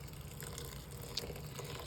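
Freshly boiled water pours steadily into a bowl for a steam inhalation, a continuous close splashing rush with a faint trickle and no talk.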